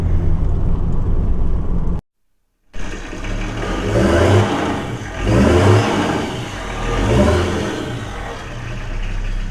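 An old tow truck engine cranks and catches after a brief silent pause, then runs loud and close with repeated revving surges that rise and fall over a steady rough idle, and no voices are heard.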